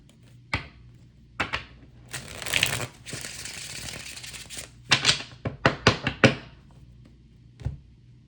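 Tarot cards being shuffled in several bursts: riffling rustles and sharp taps and snaps, close by, with pauses between, no talking.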